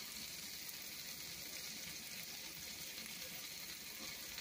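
Shrimp and steak sizzle steadily in a hot pan, a constant, even frying hiss with no voices over it.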